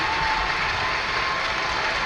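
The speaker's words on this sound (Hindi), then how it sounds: "जोरदार तालियां हम सबकी" An audience claps continuously at a foundation-stone ceremony for a toy cluster with leather and plastic industries. The applause is a steady, dense wash lasting the whole moment, with no speech over it.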